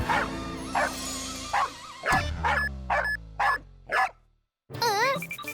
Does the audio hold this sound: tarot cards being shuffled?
no